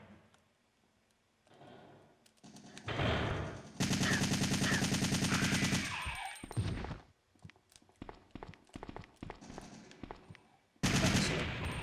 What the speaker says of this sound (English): Let's actually start using the assault rifle.